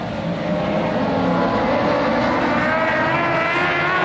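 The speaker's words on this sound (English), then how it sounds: "Here we go with our 2nd ModLite heat race." ModLite race cars roar together at the start of a dirt track heat race at the Big O, a dense, steady engine drone from several cars that holds loud and constant throughout, with no talk.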